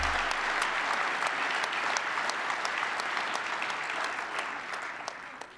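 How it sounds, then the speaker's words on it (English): An audience at an annual banquet gives sustained applause. The dense, even clapping fills the room and slowly fades toward the end. "Clap, clap, clap,"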